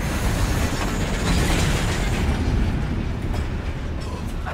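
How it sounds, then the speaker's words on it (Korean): A train, one of a crime gang's targets for a stolen load, rolls on its rails with a loud, steady rumble and clatter. The noise is dense and continuous, close by and with no voices. "결국 열차가 움직이기 시작하는데"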